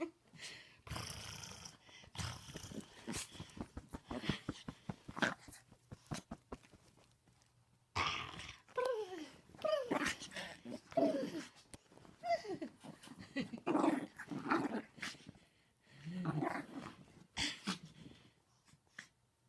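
Two dogs, Layla and Paris, play together with bursts of growling, snuffling and heavy breathing, some close and loud, some fainter, coming and going in rough rhythmic waves across the stretch.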